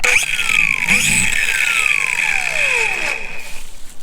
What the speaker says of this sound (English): So we're going to be using our handy dandy Milwaukee angle grinder.